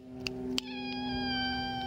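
A house cat close by gives two soft ticks, then a long, drawn-out meow with clear tone that holds to the end, with no talk.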